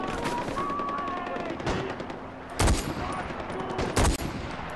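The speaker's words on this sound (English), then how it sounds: "Random gunfire everywhere we go." Gunfire in the video game Far Cry 4: scattered bursts and sharp shots, with two loud close cracks standing out among fainter distant firing, under a continuous in-game background.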